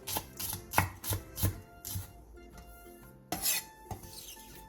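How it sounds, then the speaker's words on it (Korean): A knife chops the halved white stalk of a Korean green onion on a cutting board, with sharp, evenly spaced close taps in a steady rhythm, a brief pause, then a few more cuts. "대파의 흰대 부분을 길게 반으로 가른 뒤 쫑쫑 썰어주세요."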